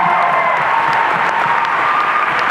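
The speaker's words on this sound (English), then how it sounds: "Let's give our judges a big round of applause" Dense, steady applause from a large audience at a Harry Potter celebration Q&A, honoring the judges, a loud continuous wash of clapping with no pauses throughout.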